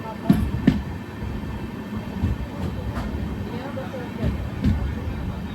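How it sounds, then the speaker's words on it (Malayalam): A Mangaluru to Rameswaram Express rolls into Ramanathapuram railway station: a steady low rumble with periodic wheel clacks over rail joints, close by, while someone speaks over it. "9:45 ട്രെയിൻ ഇതാ രാമനാഥപുരം റെയിൽവേ സ്റ്റേഷനിലേക്ക് എത്തുകയാണ്."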